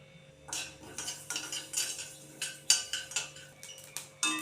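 Mustard seeds and fenugreek dry roasting in a pan without oil, with a series of light, irregular clicks, ticks and scrapes, close and fairly quiet, as the seeds pop and a spoon moves them.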